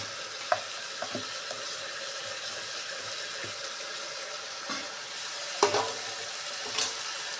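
Ground masala paste with tamarind sizzling quietly in a pan for fenugreek-leaf sambar, a soft constant crackle broken by occasional clinks and stirring scrapes, fairly faint and without talk.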